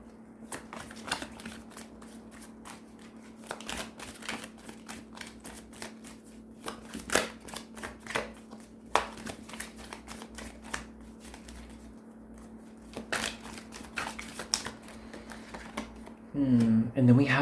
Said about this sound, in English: with this just shuffle I was doing